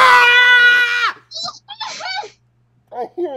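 A high, wailing scream from the Five Nights At Freddy's 4 horror game, loud and sustained for about a second, followed by shorter broken cries and whimpering bursts with gaps between them.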